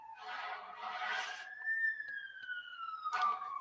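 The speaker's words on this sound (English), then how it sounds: "Oh, geez, fire trucks outside." Fire truck sirens outside wail with a long rising and falling tone, heard faintly and at a distance, mixed with some background noise.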